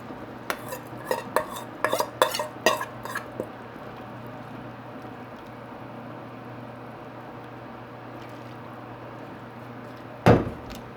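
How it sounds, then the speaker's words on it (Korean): Vegetables tipped into a boiling pot of pork skin jelly make a burst of clattering and splashing thuds, with utensils knocking on the pot, then a steady low bubbling and one more clank near the end. "이제 이거 야채를 다 넣을 거예요."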